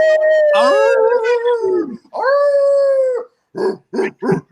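A person imitating a wolf under a full moon lets out a long howl that slides downward, then a second rising-and-falling howl, followed by three short, sharp yipping barks, loud and close.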